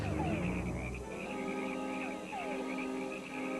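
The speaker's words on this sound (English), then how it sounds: "In the jungles of Panama, the croak of a frog results in instant death." A frog croaks in a Panama jungle amid dense, layered night-time chorus of calls and chirps, with a low rumble at the start and repeated descending tones over a continuous insect-like drone.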